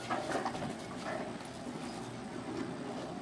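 A calm, relaxed horse walks in dressage training, its hooves giving soft, steady clip-clop beats against a low ambient background.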